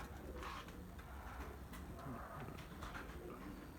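Soft cooing from pigeon chicks, young birds of a black-feathered breed, repeating in low murmurs throughout against a steady background hum, with no talking.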